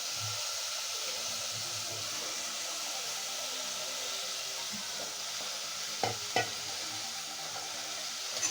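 Eggplant and potatoes sizzle in spiced oil over low gas, giving a steady close hiss throughout with a couple of faint scraping stirs near the end. No one speaks.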